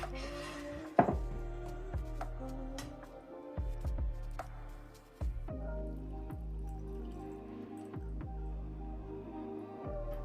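Shredded cabbage for homemade sauerkraut being scooped and dropped out of a pot, with repeated soft wet thumps and squishy drips at a steady, close pace, no talking.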